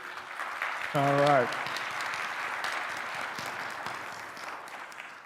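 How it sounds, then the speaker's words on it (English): Audience at a Senate primary debate on the Central State University campus in Wilberforce, Ohio claps briefly, a steady soft patter under a man's short spoken interjection. "Brief applause for your school, real quick."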